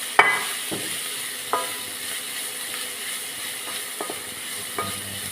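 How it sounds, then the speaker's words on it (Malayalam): Shredded leafy greens sizzle in a hot pan as a spoon stirs them, producing a steady sizzle with occasional scraping clinks and taps against the pan. "രണ്ട് മിനിറ്റ് ഇത് ഇളക്കിയാൽ മതി"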